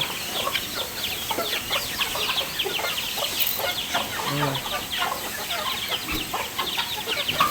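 A flock of chickens, including a mother hen, clucking and chattering busily nearby, with a person speaking briefly over the steady bird noise.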